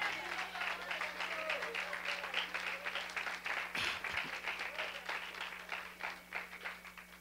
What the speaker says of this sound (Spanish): Démosle otro aplauso al Señor